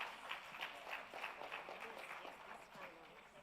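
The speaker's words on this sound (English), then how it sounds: "Give them another round of applause," Audience applause after pitches at a regional investment and capital markets conference, a modest round of clapping heard from some distance with faint voices underneath.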